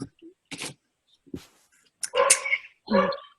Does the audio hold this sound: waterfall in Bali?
no